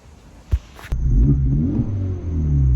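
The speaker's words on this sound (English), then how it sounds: "we're gonna drive this car around, to see how it sounds" Honda Civic Type R fitted with an AWE exhaust revs hard, a sharp burst followed by a loud, sustained engine roar heard from inside the car with the windows open.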